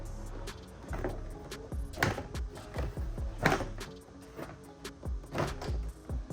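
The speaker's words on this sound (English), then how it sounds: "Now the gruesome part is pulling the panel. It's gonna sound crazy, but it's okay." A door panel on a Lexus IS is pried off, its plastic clips popping in a rapid series of sharp, close snaps and creaks, with no talking.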